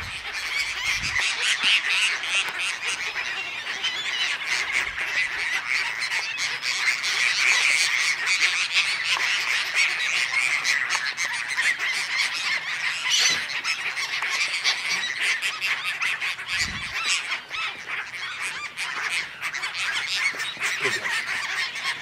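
Seagulls crowd a waterfront wharf, feasting on krill, with a dense, continuous chorus of squawking and honking calls from many birds at once, near and loud, with no talk.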